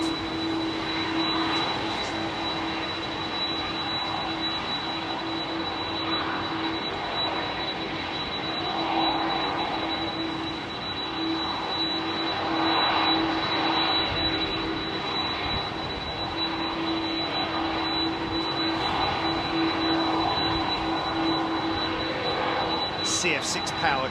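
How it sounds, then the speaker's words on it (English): A Turkish Airlines Airbus A330-300 with CF6 engines thunders past close up at London Heathrow runway 27R, a loud sustained engine roar with a steady whine and gentle swells, while a spotter talks faintly underneath. "CF6 powered Turkish Airlines A330. This is 300."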